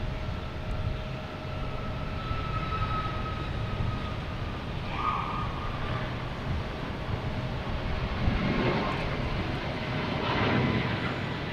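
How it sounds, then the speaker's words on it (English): A Southwest Boeing 737 MAX 8 jet takes off at Boston Logan, its engine roar a steady, broad rumble that swells slightly toward the end, heard from a distance with no talking. "we have Southwest taking off, heading to Nashville, 737 MAX 8"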